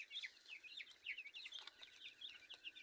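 Chickens cluck repeatedly in quick, uneven bursts of short calls, faint and somewhat distant, with no talk.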